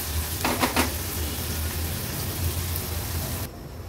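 Onion cooking in oil with ginger-garlic-chili crush over a low gas flame, a soft steady crackling sizzle with a brief stir at the start, heard alone, dropping quieter at the end.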